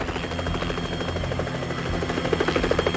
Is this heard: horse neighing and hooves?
no